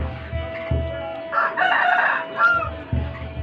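A rooster crows loudly and close by in one long rising-and-falling call, with clucks and other fowl sounds around it and a steady low hum underneath.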